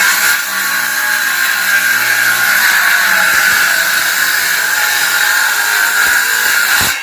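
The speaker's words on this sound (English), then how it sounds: "I love power tools." A power tool whines steadily at close range while cutting wood for a cabinet shelf built from an old grandfather clock, a loud continuous high-pitched motor drone with no pauses from start to finish.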